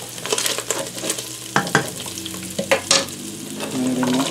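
Onion goes into a pan of cooked meat, setting off loud sizzling frying along with sharp stirring scrapes and clatters. The sizzle swells again near the end, and no one speaks.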